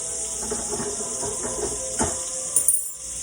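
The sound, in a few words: top sirloin steak sizzling in a pan after flipping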